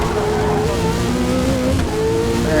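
Race car lapping Sebring in Forza Motorsport, a steady loud engine drone with shifting pitch held throughout, faint tire noise underneath and no pauses.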